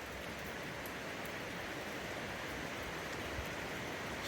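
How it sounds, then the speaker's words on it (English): A park waterfall in Ohio, swollen after heavy rain, roars as a constant, dense wash of rushing water that never lets up. "The water's loud. A lot of rain."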